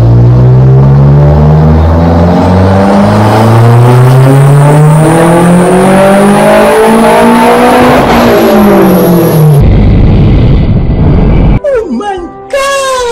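Turbocharged 3S-GTE engine in an SW20 Toyota MR2 on a dyno, revving loud and close with a steadily rising harmonic pitch, then cutting to hiss and clatter as it winds down, a voice briefly audible.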